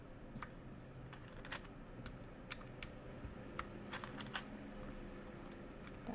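Keycaps pressed onto a GK61 hot-swappable mechanical keyboard make scattered sharp plastic clicks and snaps at an irregular pace, faint and close, with no voices.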